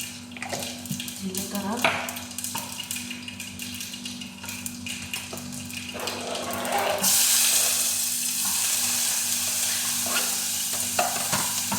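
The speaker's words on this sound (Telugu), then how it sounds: "పప్పు అయిపోయిందండి తాలింపు కసేస్తున్నా" Onion, curry leaves and dried red chillies for a tempering hit hot oil and sizzle loudly, the frying swelling into a strong hiss midway, with stirring scrapes and utensil clinks close by and no talking.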